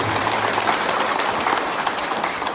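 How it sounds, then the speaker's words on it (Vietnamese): Loud, continuous audience applause fills the whole stretch as a steady wash of clapping at a charity group's visit to a nursing home in Vietnam, with no other sound standing out. "Chúng ta dành tràng pháo tay."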